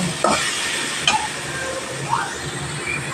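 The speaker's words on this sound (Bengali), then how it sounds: "প্রত্যেকটা মশলা দিয়ে গ্যাসের ফ্লেমটা লোতে রেখে কষিয়ে নেব" Ground spices, Kashmiri chilli powder and salt cook on a low gas flame with vegetables for a bitter gourd, eggplant, jackfruit seed and potato dish, giving a soft, steady sizzle with a few spoon scrapes and light clinks.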